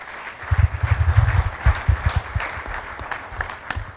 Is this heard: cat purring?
no